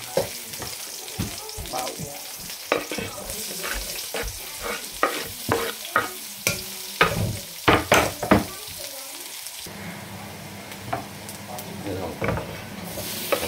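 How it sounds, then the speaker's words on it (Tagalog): Garlic and onion sauté in a hot pan for shrimp sinigang, sizzling with repeated stirring and scraping strokes, then settling into a steadier fry near the end. "Kasi pag nagsisiging ako ng hipon, ginigisa ko muna."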